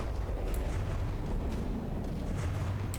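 A battleship explodes in the naval combat game From the Depths, heard as a dense, continuous low rumble with scattered crackling debris bursts over about three seconds, loud and steady without talk.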